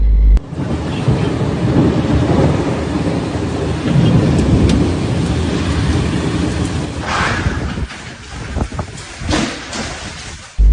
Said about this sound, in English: Heavy rain fell on Tuesday evening, accompanied by thunderstorms in separate areas of the Makkah al-Mukarramah neighborhood